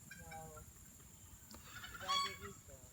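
Chickens cluck and call in short repeated bursts, fairly faint and somewhat distant, with a louder squawk near the end.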